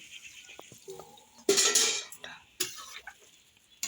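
A metal lid set down onto a cooking pot of simmering potato and pointed gourd with prawns, heard as a sharp clattering clink mid-clip and a second, smaller knock shortly after, close by with quiet kitchen sounds around.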